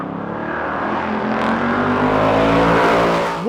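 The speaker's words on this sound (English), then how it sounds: "Driving the Mustang Dark Horse around the Charlotte Roval is something I'll never forget." A 2024 Ford Mustang Dark Horse drives hard on the Charlotte Roval race track, its engine droning loud and steady with rising revs and a sharp surge near the end.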